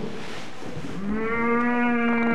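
A calf moos once, a loud, close, sustained bellow that swells and holds its tone steadily to the end, with no other sounds around it.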